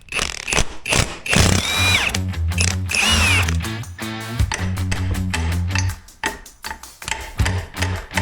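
Tools working on a stubborn, burnt differential pinion on a Toyota 4Runner, with dense metallic clicks and ratcheting, rapid taps and a whirring power-tool burst, loud and close, continuing without pause.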